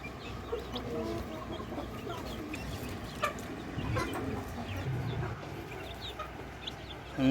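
Chickens and chicks kept in a cage cluck and peep softly and close by, scattered short calls over a low murmur, with no talk.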